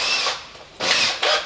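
A power drill whirs in short bursts, its motor pitch dipping between runs as it bores into wood.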